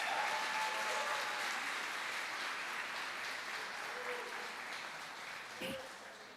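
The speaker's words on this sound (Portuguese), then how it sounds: "forte aplauso para esse casal" A church congregation applauds a couple, steady clapping from many hands filling the room at moderate volume and slowly fading, with a faint voice briefly over it.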